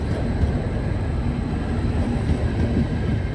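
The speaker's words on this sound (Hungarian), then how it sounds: "A harmadik vágányon vonat halad át." A train runs past on the third track of a Hungarian railway station, a steady, loud rumble of wheels and carriages that holds throughout with no voices.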